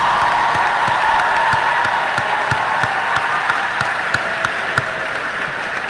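Graduation audience applauding as diplomas are handed out: a steady, full crowd of clapping with a few louder individual claps standing out, sustained evenly for the whole stretch.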